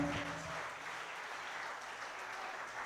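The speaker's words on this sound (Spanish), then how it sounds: "Dale un aplauso al Todopoderoso" A church congregation claps for God during a service, a sustained, moderately distant patter of many hands at an even level throughout.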